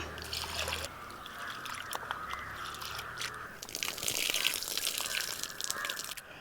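Split green gram gets washed by hand in a bowl of water, giving close, trickling splashes and gritty swishes of the lentils with a few louder sloshes near the end.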